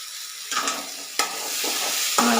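A spoon stirs curry with tomato and salt in a hot pan, with a few sharp scrapes and clanks against the pan over a steady background sizzle, heard close up with no talking.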